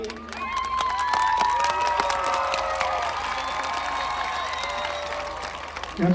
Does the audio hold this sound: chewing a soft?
no